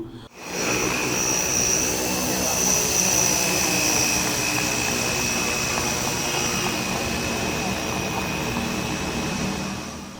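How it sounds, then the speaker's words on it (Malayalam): A survey drone flies over the Boys High School ground in Cherthala, giving a steady, continuous whining engine and rotor drone that holds at a fairly even loudness for about ten seconds with no talking. "ചേർത്തല ബോയ്സ് ഹൈസ്കൂൾ ഗ്രൗണ്ടിൽ ഡ്രോൺ സർവേ ഉദ്ഘാടനം നഗരസഭാ ചെയർപേഴ്സൺ ഷെർലി ഭാർഗവൻ നിർവഹിച്ചു"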